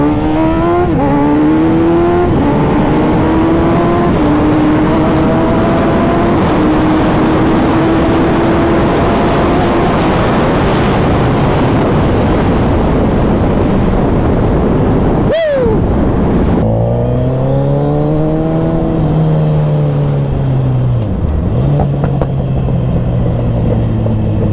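A Suzuki Hayabusa motorcycle accelerates hard in first gear, its engine note climbing steadily in pitch over a long loud pull, then briefly cutting off before revving and pulling again, with wind noise throughout.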